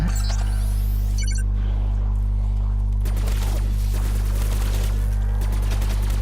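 Rapid bursts of automatic gunfire from a Call of Duty zombies game on the Kino der Toten map, a clip being emptied; after a brief opening noise, dense shots run steadily over a constant low hum, loud and with no talking.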